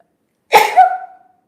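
A single burst of a sneeze, close and fairly loud, a sharp noisy onset trailing into a short voiced tail, then silence.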